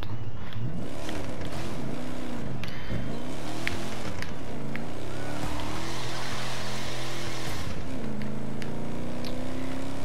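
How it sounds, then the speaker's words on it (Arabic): A 1969 Ford Mustang in the racing game The Crew 2 revs and accelerates, engine pitch sweeping up and down repeatedly through gear changes, then settling into a sustained rising drone near the end, loud and close without talk. "هنعمل هالسباق بهالسيارة العظيمة، هاي الماستنج 1996 بعتقد، لا 69 على ما اعتقد"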